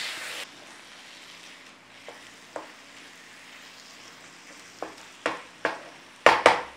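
Garlic chili chicken with lemon cooks in a pan, a low quiet sizzle broken by several sharp clattering utensil knocks that grow louder and more frequent toward the end, with no voices.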